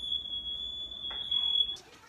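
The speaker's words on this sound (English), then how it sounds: "I set the smoke alarms off." A smoke alarm sounds while cheese melts during cooking, emitting a steady, piercing high-pitched tone that holds continuously, moderately loud indoors, with a few faint kitchen clatters underneath.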